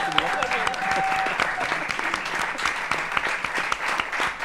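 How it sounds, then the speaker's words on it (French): Audience applause for volunteers at an occupational therapy event: dense, steady clapping fills the room throughout, with a brief tone near the start and voices mixed faintly into the crowd noise. "on peut applaudir les bénévoles"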